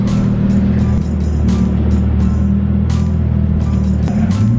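A Lamborghini supercar creeps onto a ferry, its engine holding a steady, loud low rumble up close with brief revs and a faint tyre chirp near the end.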